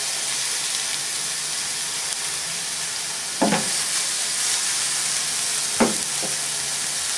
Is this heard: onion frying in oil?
yes